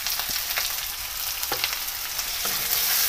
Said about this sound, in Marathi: कांदा घालते मी आता.